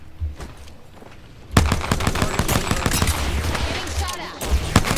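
Rapid gunfire in an online battle-royale shooter, aimed at the player: a quiet lead-in, then from about a second and a half a dense stream of sharp shots and bursts, loud and close, continuing to the end.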